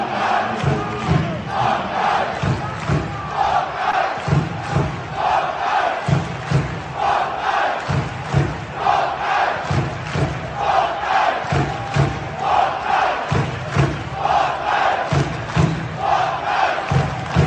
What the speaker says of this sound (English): You've got to hear this cheer from a football club.